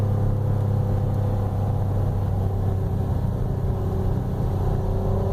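A 2016 Honda Pilot Elite with a 9-speed automatic held in second gear, its engine pulling steadily uphill as if towing. The drone is continuous, close and rumbling, with a rising tone and no voices.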